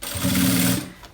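Sewing machine stitching a two-tone quilted bag, one short close burst of rapid mechanical stitching that starts and stops within about a second.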